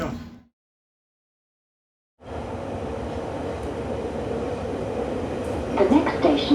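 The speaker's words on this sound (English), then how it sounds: "could I run faster than an underground train?" A London Underground train runs through a tunnel after a brief silence, its loud, continuous rumble and rattle close by, with a few squeals near the end.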